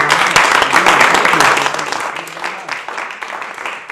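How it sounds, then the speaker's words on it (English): Audience applause at a live studio music show: a loud burst of many hands clapping that gradually thins and fades over a few seconds, with voices talking beneath it. "One more good round of applause for"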